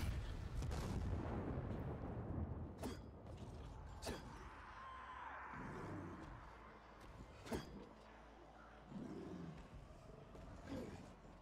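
Grenade blasts in the video game Dying Light 2 roll out as a heavy, continuous low rumble, with several sharp cracks and a creaking, mechanical texture scattered across the stretch. No voices are heard.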